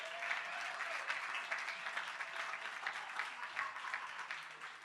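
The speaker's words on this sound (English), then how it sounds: "Give your neighbor a round of applause." A crowd at a National Action Network Martin Luther King Day event applauds in steady, even clapping that sounds somewhat distant and soft, with the odd louder clap and no voices.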